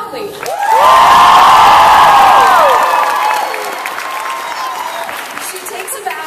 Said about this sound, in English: everyone starts to clap loudly.